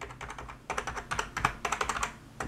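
Keys clack on a Perixx PX-3200 gaming keyboard in quick, uneven bursts of close, crisp taps, a short pause first and then a steady run of typing, with no voices.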